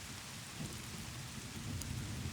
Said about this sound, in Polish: ta burza jest dosyć usypiająca